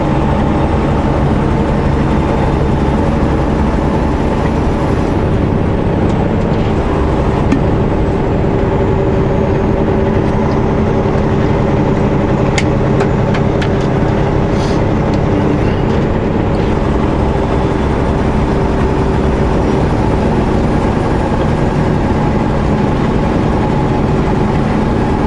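A Cummins diesel truck engine rumbles continuously, a loud, deep, even drone that holds steady without revving for nearly half a minute.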